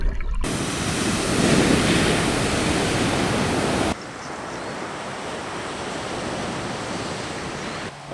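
Ocean surf washing onto a beach on the Napali Coast of Kauai, a loud, continuous roar of breaking waves with some wind noise on the microphone, no voices.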